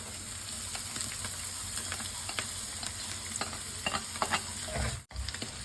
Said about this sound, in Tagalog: Ilagay na po natin ang ating mga pang-aromatics. Onion, chili, ginger, and garlic.